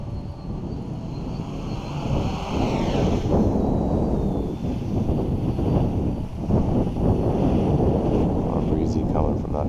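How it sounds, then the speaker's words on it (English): Strong outdoor wind buffets the microphone during a drone test flight, a continuous loud rumbling roar with gusty swells, and a faint higher whine passing briefly in the background. "A lot of breezy coming from that direction."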